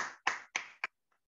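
Participants at a communication skills training session give a brief burst of three quick hand claps, close and fairly loud, followed by near silence.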